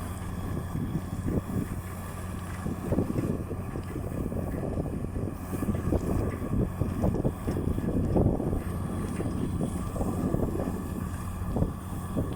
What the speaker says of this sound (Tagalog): Ayan yung compressor natin